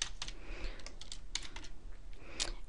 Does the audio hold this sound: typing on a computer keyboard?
yes